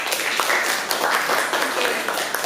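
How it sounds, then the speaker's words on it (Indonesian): Children in a school classroom applaud together, a dense, steady burst of clapping filling the room at close range and continuing evenly for a few seconds, with a faint voice underneath. "Oke, terima kasih aplaus untuk kita semua anak-anak."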